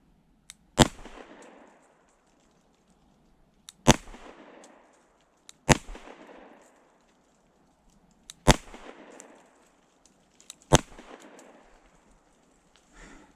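Five loud, sharp pistol shots from a Kimber 2K11 Pro, fired singly with gaps of two to three seconds between them, each a crisp crack followed by a short echoing tail.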